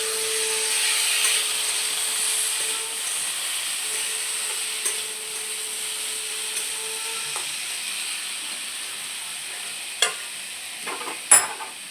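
Potato curry going into a frying pan with cooked sago and being stirred, a steady close scraping and soft sizzle running throughout, with a couple of sharper knocks of the utensil near the end.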